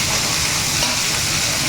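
Carrot, beans, cabbage and capsicum fry with tempered garlic and onion for chowmein, a loud, dense, unbroken sizzle and hiss close up with faint stirring underneath.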